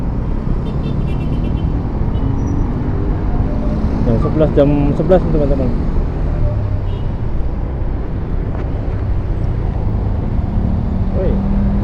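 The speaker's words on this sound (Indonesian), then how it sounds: "tumben macet jam segini." Heavy road traffic hums and rumbles steadily in a morning jam near the Lebak Bulus intersection, with a passing engine and a faint horn, while someone speaks over the noise from inside a vehicle.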